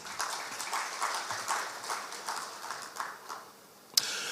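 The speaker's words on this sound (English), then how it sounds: "Shall we do another big round of applause for him?" Faint audience applause at a formal official gathering, a modest scattering of claps rising and falling softly, fading near the end before one sharp louder click.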